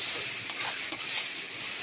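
Spiced fish curry masala with salt, turmeric and cumin powder stir-fried in a pan for Bengali vatki macher kalia, a steady loud sizzle with light stirring scrapes and two sharp utensil clicks against the pan.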